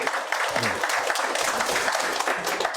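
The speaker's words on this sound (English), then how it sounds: "please give a big round of applause, ladies and gentlemen." Audience applause at a launch event in Windhoek for a set of digital solutions, with steady clapping from a crowd that fills the whole stretch, fairly loud and continuous.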